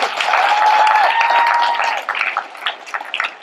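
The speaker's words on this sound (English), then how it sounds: "Let's give them a round of applause." Clapping from a convention audience greets the show's guests at a late-night panel, loud and dense at first, then thinning into scattered claps. A sustained tone runs underneath during the opening stretch.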